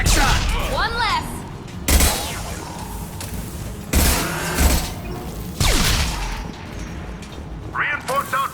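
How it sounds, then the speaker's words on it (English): Gunfire in the Mass Effect video game, heavy booming shots and bursts arriving roughly every two seconds with sharp cracks and mechanical whirs, mixed with game effects and a voice talking between shots. "Firing a high-impact shot!"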